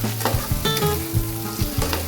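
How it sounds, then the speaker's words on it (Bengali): Tomatoes fry in spiced oil in a pan for a vegetarian dish with lentil nuggets. A steady close sizzle runs throughout, broken by regular scraping knocks of stirring. "টমেটোটাও আমি ভালো করে ভেজে নেব।"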